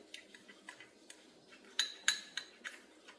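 A spoon clinks and taps against a bowl while a honey and yogurt face pack is mixed, light irregular knocks with a few louder bright clinks near the middle, quiet and close.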